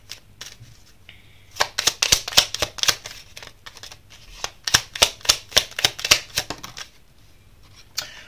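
Tarot cards shuffled and drawn up close, giving rapid bursts of crisp riffling flicks in two main runs with brief pauses and a final snap.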